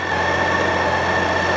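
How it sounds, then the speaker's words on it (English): A car engine idles steadily while waiting for the cooling fan to start, giving a continuous close, even drone with no variation and no voices. "allow the engine to idle until the fan starts up, then allow it to idle 1 minute longer"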